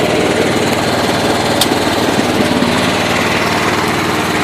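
A John Deere 210 lawn tractor engine runs steadily after a carburetor rebuild, a loud, close, continuous rapid putter with an even beat and a faint tick or two, no voices.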